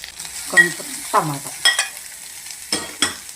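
Onions frying in hot oil with green chillies and curry leaves in a home kitchen, a few scraping stir strokes rising over a soft steady sizzle, close and moderately loud.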